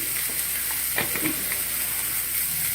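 Garam masala stirred into spices already frying in a pan with turmeric and coriander powder, giving a steady, close sizzling hiss with faint scraping stirs throughout.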